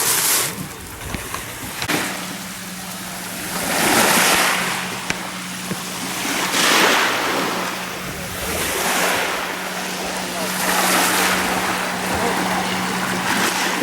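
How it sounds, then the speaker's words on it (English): Lake waves wash against a houseboat on Lake of the Arbuckles in repeated swelling surges every few seconds, close and rushing, over a low hum and some wind buffeting. "The waves are kind of bad out here,"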